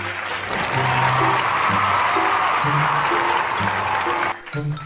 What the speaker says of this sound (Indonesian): Silakan beri tepuk tangan ya untuk mereka berdua.